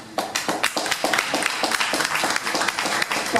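Audience at a political meeting applauding in dense, rhythmic clapping that keeps going at an even, fairly loud level throughout.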